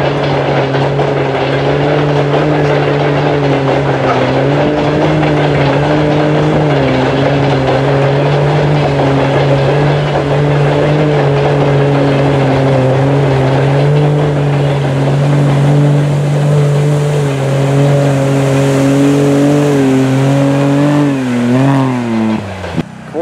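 A buggy roars through a muddy special stage at a mud race, its engine loud and close with a sustained droning growl that shifts pitch near the end.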